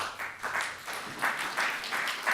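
An audience applauds a speaker after a talk on geospatial intelligence, with moderate, somewhat distant clapping that swells in uneven waves for a couple of seconds.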